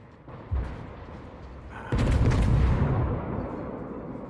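Naval gunfire from the World of Warships video game: a dull boom, then a louder, heavier salvo that rumbles and fades out slowly.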